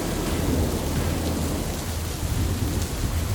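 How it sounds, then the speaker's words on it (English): Heavy rain pouring down during a storm, a thick, unbroken roar of rainfall with deep rolling rumbles of thunder underneath, loud and constant from start to finish. "The sky slowly darkens. Suddenly, rain pours down."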